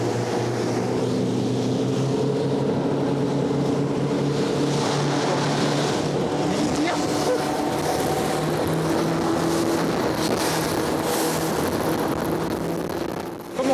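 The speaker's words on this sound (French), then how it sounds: "Je vais accélérer un petit peu là parce qu'il y a des bateaux, il faut que je laisse le passage." Motorboat running at speed on the Seine in Paris, a steady, loud engine drone with water rush that holds throughout, heard alone.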